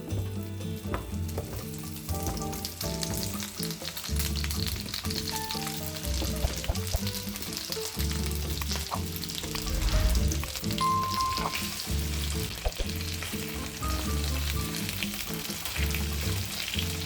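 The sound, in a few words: potato wedges frying in a pan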